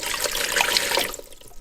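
Water, 1.5 cups, poured steadily into a Ninja Speedi cooker, a close, continuous splashing stream that stops abruptly near the end.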